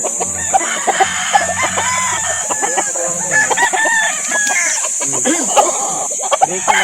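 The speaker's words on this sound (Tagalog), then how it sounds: "Ayan, may manok na." Roosters crow repeatedly over a dense bed of clucking chickens at a busy poultry market in Calauan, Laguna, with people talking faintly underneath throughout.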